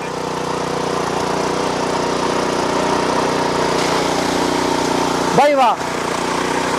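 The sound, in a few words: Sraja R109 power weeder engine running, water poured over it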